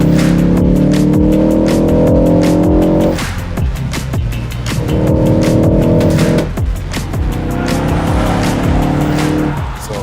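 A 2023 Ford Focus ST Track Pack races hard around a track, engine roaring through gear changes while tires squeal and skid through corners, loud and close.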